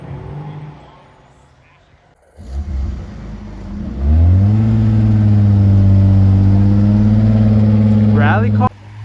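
A rally car engine revs up and holds a loud, steady drone at a car meet in Los Angeles, preceded by a brief burst of outdoor noise and ending abruptly.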